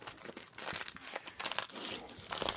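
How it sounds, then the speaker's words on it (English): A crinkly duck dog toy is squeezed and crumpled at close range, giving irregular bursts of crisp, papery crackling and rustling that come and go in quick handfuls. "Do you like the crinkly duck, Mr. Pignose?"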